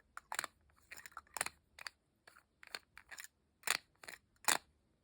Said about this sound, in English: But the plastic version has a specific sound to it